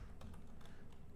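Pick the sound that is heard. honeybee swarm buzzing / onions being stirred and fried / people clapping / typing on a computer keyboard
typing on a computer keyboard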